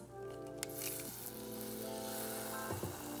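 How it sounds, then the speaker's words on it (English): Hot oil sizzles and crackles steadily and close by as a batch of zalabieh donuts fries, with a faint background hum and a brief stir or splash near the end. "The new batch is frying away,"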